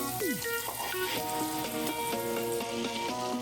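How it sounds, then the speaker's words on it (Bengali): About 25 grams of butter melts in a hot pan with a steady, close sizzle that runs the whole time under tuneful background music. "আমি 25 গ্রামের মতো বাটার অ্যাড করে দিলাম।"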